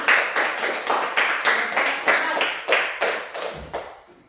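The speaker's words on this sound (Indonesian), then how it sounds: "sekarang kita tepuk tangan untuk semua kelompok hari ini." A group of schoolchildren claps together in a classroom setting, the handclaps landing in a steady, fairly even rhythm of roughly two beats per second, close and moderately loud, fading out at the end.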